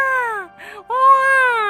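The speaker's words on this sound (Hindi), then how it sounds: "इस गुफा में बच्चे के रोने की आवाज?" An infant cries inside a cave in two drawn-out wailing bursts split by a short breathy gasp, loud and close with no other sound around it.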